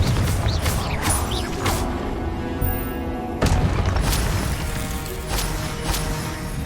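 Confringo explosive spell blasts from Hogwarts Legacy boom repeatedly during a fight, several sharp impacts with whooshing and rumbling debris, loud and close, with little talk.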